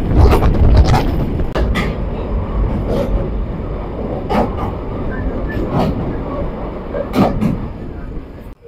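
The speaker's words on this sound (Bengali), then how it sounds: "আমরা আলমডাঙ্গা রেলওয়ে স্টেশন থেকে ডিপার্চার নিচ্ছি" The Intercity Chitra Express pulls out of Alamdanga railway station at night, a continuous heavy rolling rumble with sharp rattling clacks recurring every second or so, loud and close.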